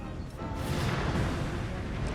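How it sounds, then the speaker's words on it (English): Cannon firing canister shot in the Empire: Total War battle game, heard as a continuous dense roar of artillery fire that holds steady and loud throughout, with no clear separate reports. "Cannon. Canister shot."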